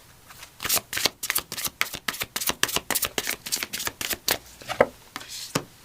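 Creativity oracle cards being shuffled by hand, a quick run of crisp riffling bursts and soft slaps repeating steadily and close up, with no voices.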